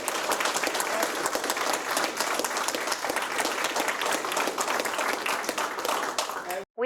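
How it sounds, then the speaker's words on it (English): A room full of people applauds veterans at an American Legion Department of New Jersey gathering, dense sustained clapping at steady loudness for several seconds before cutting off abruptly, with a brief word of speech at the end. "let's give them a round of applause for what they do"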